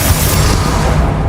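Bombarda explosion spell in Hogwarts Legacy, a short, very loud booming blast with heavy low rumble that fills the brief moment, no voice present.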